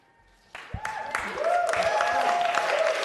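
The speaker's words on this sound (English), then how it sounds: "I'm going to have to ask that we hold your applause" Audience applause fills a city Land Use and Transportation Committee hearing room, starting abruptly after a brief quiet moment and swelling into steady, sustained clapping that runs to the end, with voices mixed in.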